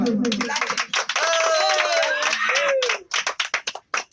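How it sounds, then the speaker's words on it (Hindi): A party crowd claps happily in quick bursts beneath loud singing and chatter, with a few sharp, separate claps standing out near the end. "सब ताली मारते हैं खुशी से"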